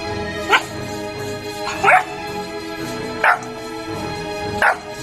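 A dog barks four times, single sharp barks spaced roughly a second and a half apart, near and fairly loud over a low background hum.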